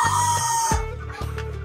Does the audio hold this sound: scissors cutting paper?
no